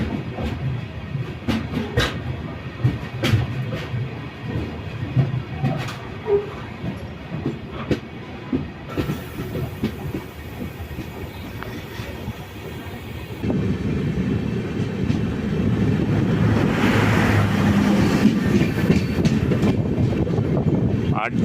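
The Kollam-Tirupati biweekly express train travelling, heard from on board as a steady rumble with rhythmic wheel clatter that grows louder and denser partway through, while people talk faintly in the background.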